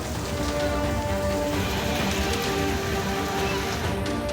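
Heavy, steady monsoon rain pours down continuously in Morena, Madhya Pradesh, a dense hiss of drops hitting surfaces at a constant loud level throughout.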